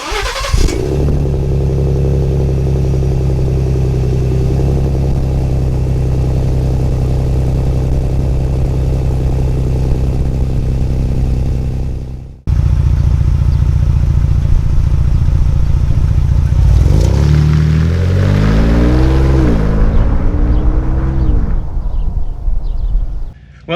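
Ford Bronco fitted with an MBRP exhaust pulling a 0 to 60 run on an open road: a loud steady engine drone that drops briefly at a gear change, then climbs again with rising pitch as it accelerates.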